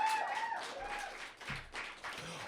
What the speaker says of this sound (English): Big round of applause for Deborah one more time